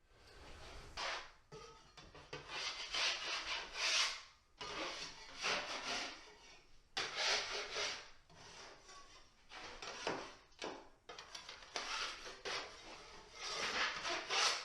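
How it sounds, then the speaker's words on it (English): Dried joint compound being scraped off a drywall corner bead makes repeated rough, rasping strokes in uneven bursts separated by short pauses, close and fairly quiet, with no talking. "after I scrape down the corner bead and any high spots like around these outlets"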